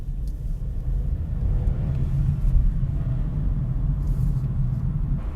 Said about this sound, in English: It's quite good fun to rev it out